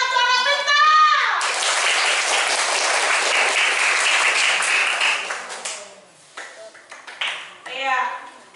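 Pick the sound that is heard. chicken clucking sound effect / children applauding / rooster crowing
children applauding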